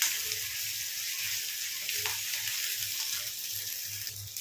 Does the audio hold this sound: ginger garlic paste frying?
yes